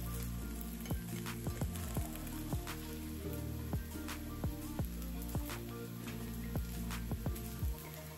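A breakfast dish frying in a covered pan after oil is drizzled over the top, a steady crackling sizzle with faint repeated clicks and light knocks from the cookware.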